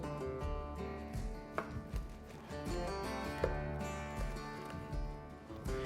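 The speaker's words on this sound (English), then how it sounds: "let's take some slices off of this boneless beef rib" A knife slices a smoked boneless beef rib that is still hot after resting, producing soft cutting strokes over steady background music.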